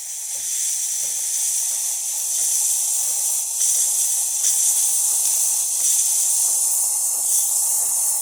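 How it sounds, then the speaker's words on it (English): A loud, steady steam hiss from a DeLonghi Magnifica espresso machine's wand, close up, with rhythmic low gurgling pulses underneath as the jet works through liquid. "Actually, this is the steamer, and then after that the hot water."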